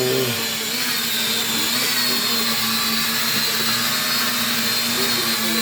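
An E88 mini drone flies with a steady, high-pitched motorized whine and constant buzzing drone, close and continuous throughout, like small propellers spinning fast.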